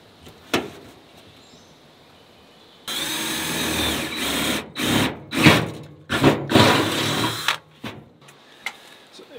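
Bursts of a power drill grinding a hole into metal, several loud runs stopping and starting, with occasional sharp knocks between them.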